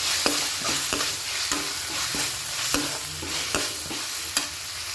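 Tomatoes sauté with ginger garlic paste in a hot pan for chicken curry, a steady loud sizzle punctuated by sharp scraping and stirring knocks at irregular intervals, with no voices.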